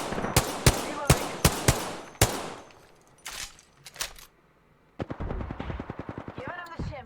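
Apex Legends gunfire: a rapid burst of close, loud shots, a pause with a few scattered rounds, then another fast automatic burst near the end.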